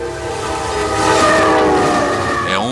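Beijing to Lhasa express train running through China, a loud steady rumble and rail noise with a sustained horn-like tone throughout, no talking.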